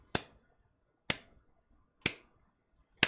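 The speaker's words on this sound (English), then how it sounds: "you clap on each of those beats like I'm doing now" Four single claps spaced evenly about a second apart, marking quarter-note beats for a beginner guitar strumming lesson, each sharp and close with a quick decay and silence between.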